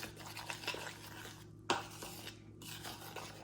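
Icing for homemade Pop Tarts being stirred in a bowl, a quiet scraping and clinking of a utensil against the dish with one sharper knock partway through.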